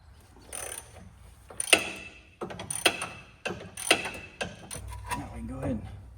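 A ratchet wrench loosens 15/16 lower control arm bolts on a GMT800 crew cab pickup during a 6-inch suspension lift install, making several bursts of close metallic clicking that are separated by short pauses.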